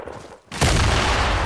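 Video-game gunfire erupts after a brief lull: a loud, sustained burst of shots, dense and continuous like a fusillade, following some muffled background noise.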